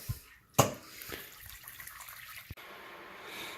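Water pours into a home-brewing vessel during a brew day, with a steady, faint gush and a few louder splashes and knocks near the start and middle.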